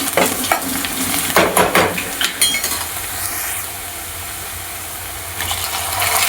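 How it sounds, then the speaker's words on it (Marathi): Onion frying for Kolhapuri-style mutton with tomato being added, a loud close sizzle with rhythmic stirring and scraping against the pan in the first half, then steadier frying hiss, no voices. "हा मटणासाठीचा कांदा चांगला भाजायला लागला आहे. त्यात आता आपण टोमॅटो टाकून घेऊया."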